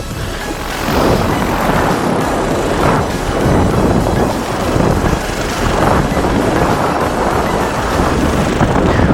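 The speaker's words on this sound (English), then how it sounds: "this wind is clearly switched" Strong wind roars and buffets a microphone during a paramotor flight, loud and continuous with surging gusts.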